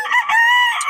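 A rooster crows once, a loud, close, sustained call.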